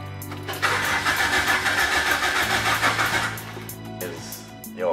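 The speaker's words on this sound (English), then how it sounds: "I'm trying to start this fucking Lotus." Lotus 7 with twin 40 side-draught carburettors struggling to start in cold weather: the starter cranks, then the engine catches into a loud, rough, uneven idle that rumbles on, close by.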